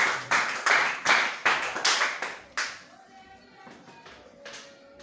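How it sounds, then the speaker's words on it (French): Congregation in a church applauding loudly with about eight strong, rhythmic bursts of clapping that fade out over the last couple of seconds, leaving a faint tonal hum beneath. "Est-ce qu'on peut acclamer très fort?"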